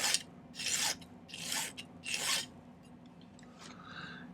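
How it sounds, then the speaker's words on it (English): A hand file flattens the ends of 14 gauge square silver wire, giving three loud, rhythmic rasping strokes close by, followed by fainter scraping and small clicks. "I'm going to file and end flat both of these"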